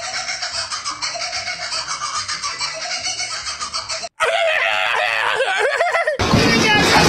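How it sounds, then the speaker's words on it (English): Sped-up laughing call of a kookaburra, an Australian kingfisher, a dense chattering cackle of rapid bird notes that runs steadily, cuts out briefly, then returns louder and more frantic. "It was actually the sped-up laughter of the kookaburra."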